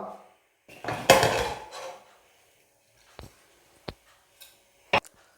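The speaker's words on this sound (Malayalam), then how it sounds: "കുക്കറിൽ വേവിക്കാൻ വെച്ച ചക്ക നമുക്ക് തുറന്ന് നോക്കാം" A pressure cooker holding cooked jackfruit is opened, with a short rubbing, scraping clatter of the metal lid followed by a few sparse, sharp metallic clicks and taps in an otherwise quiet kitchen.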